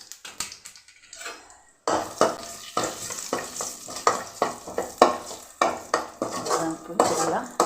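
Whole spices (a cinnamon stick, two cloves and a piece of kalpasi) fry in hot oil for a cauliflower gravy. A soft sizzle runs under repeated stirring scrapes of a spoon against the pan, close and steady.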